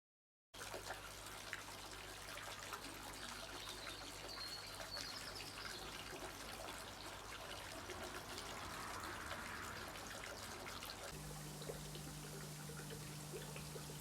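Air stones bubble steadily in a newly built koi pond, a faint, continuous watery fizz and trickle with no voices, its tone shifting slightly near the end.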